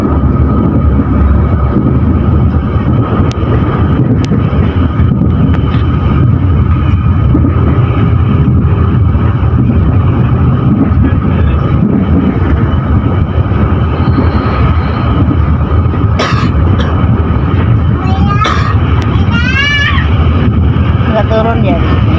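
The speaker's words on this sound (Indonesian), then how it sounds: "Kereta api Pasundan Lebaran persiapan melintas langsung stasiun Tarik" A loud, steady rumble of the Pasundan Lebaran train passing close by Tarik station without stopping, roaring throughout, with a few high squeals and a voice talking over it.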